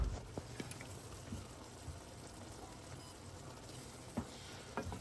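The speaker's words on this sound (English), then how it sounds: "we're going to simmer that and continue stirring until our onions start to become clear" Onions and bell peppers sauté in a pan, giving a steady soft sizzle with light scraping from stirring and a few brief clicks, close and fairly quiet, with no voices.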